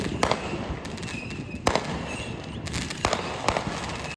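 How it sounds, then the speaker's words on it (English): Fireworks burst outside a hotel window in sharp, crackling pops, a few loud bangs spaced unevenly over a steady rumbling background, heard from indoors at moderate distance. "there were fireworks going off outside our window"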